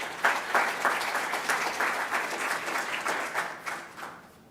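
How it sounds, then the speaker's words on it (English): An audience at an economic development talk gives a round of applause, with many hands clapping densely and steadily for several seconds before tapering off. "That could be the best round of applause I've ever had"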